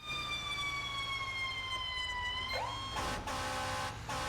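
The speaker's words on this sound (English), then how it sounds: "It's so nice to hear real life sirens again in the game." A fire engine siren in the San Andreas Fire Rescue game wails in long steady tones, then sweeps sharply upward and switches to a harsher, pulsing pattern, loud and close throughout.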